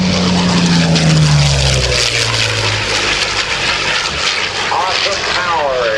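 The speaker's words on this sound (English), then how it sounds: "Right down on the deck is the Yak-9." A Yak-9 warbird flies right down on the deck at the Dover AFB airshow, its propeller engine roaring loud and close, then fading, while an announcer speaks over the noise.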